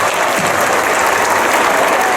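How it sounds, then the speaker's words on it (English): Audience applause at a Comic Con artists' Q&A panel, a dense, loud, continuous wash of clapping from a large crowd that fills the whole moment. "give a big round of applause to these guys"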